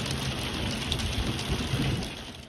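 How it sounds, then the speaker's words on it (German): Thunderstorm with hail pounding around a camper near Peak Lenin: a steady, dense roar of impacts on the roof and surroundings, loud and unbroken, with low rumbling swells underneath. "Und ein Gewitter umtobt uns."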